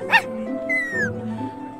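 A puppy in the Minecraft Story Mode video game gives a short, sharp yip followed by a higher whimpering whine, close and clear over a low game background hum.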